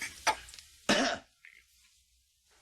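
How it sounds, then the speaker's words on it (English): A single cough as part of a comedic doctor's-office exam skit, with a couple of short throat-clearing bursts at moderate level, separated by near silence and followed by a brief muffled sound at the end. "turn your head and cough"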